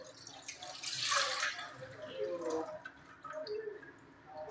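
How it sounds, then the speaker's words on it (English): Liquid starch is poured into an ordinary cooking pot, giving a brief, soft splash and trickle that fades into quiet kitchen sounds. "I'm going to pour it inside the pot."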